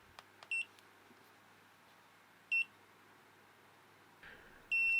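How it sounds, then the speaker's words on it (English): An Inkerma DM-262 laser distance meter gives several short electronic beeps at intervals, with a longer high beep near the end as it powers off, in a quiet room. "After the long beep, the display is dark."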